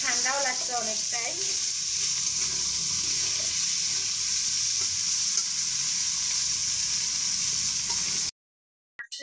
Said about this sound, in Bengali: আমি কিন্তু এখন একটু আগে মাছটা কষাই নেব